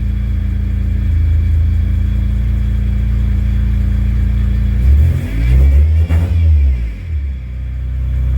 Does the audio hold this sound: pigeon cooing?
no